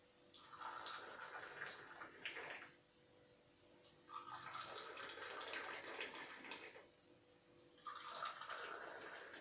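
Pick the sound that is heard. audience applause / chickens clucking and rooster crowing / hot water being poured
hot water being poured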